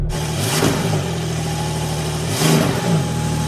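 A new Porsche 911 T-Hybrid engine idles steadily, then revs twice in quick bursts, with a second pair of sharp revs a couple of seconds later.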